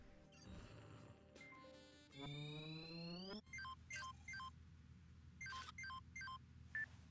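In the video game Watch Dogs 2, a hacked phone dials out: a rising electronic tone, then rapid beeping keypad tones in quick bursts, clear and close with no talk.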